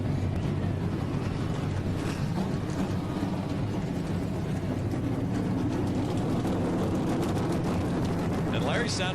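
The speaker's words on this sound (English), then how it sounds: "The engines are fired. 36 trucks have come to life." Thirty-six race truck engines idle loudly together at Atlanta for the 2012 Jeff Foxworthy's Grit Chips 200, a dense, steady roar filling the whole clip with a crowd or PA noise mixed in.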